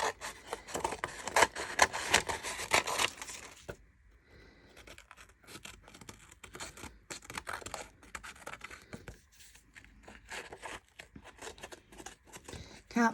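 Scissors snip and rasp through paper while trimming around a grungy mixed media tag for a fairy journal, with dense cutting sounds up front, a brief pause, then scattered lighter snips and rustles continuing close by.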